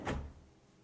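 A cabinet drawer on a 21-inch slide rolls open with a quick burst of rumbling glide noise that fades away, close and alone.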